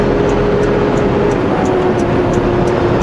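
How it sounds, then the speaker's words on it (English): A car engine on the road drones loud and steady, holding a constant pitch under broadband road and wind roar, with no clear rev rise after a downshift. "Downshift a little earlier to get the RPM up higher"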